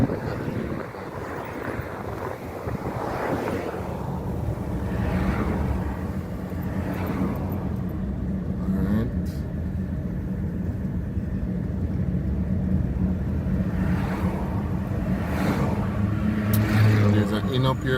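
A car engine and road rumble driving up a hill in Montego Bay, Jamaica, a steady loud drone with wind buffeting the microphone, someone talking over it throughout.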